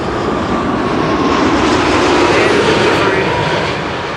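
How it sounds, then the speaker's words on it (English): Saudia Boeing 787-10 Dreamliner jet arriving on runway 06 at Amsterdam Schiphol, a loud, steady broadband engine roar that holds throughout and eases slightly at the end. "It is the 787-10 Dreamliner from Saudia."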